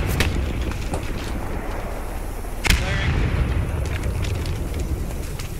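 A grenade goes off during infantry fighting in the WWII shooter Post Scriptum: one sharp, punchy blast rises out of a continuous rough rumble of battle noise.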